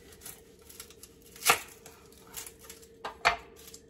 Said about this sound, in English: So we're going to start with chopping an onion.